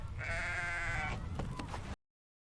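Goats bleat in a Goat Simulator 3 video game trailer, one long, loud, quavering bleat followed by a short burst of clattering noise that cuts off abruptly.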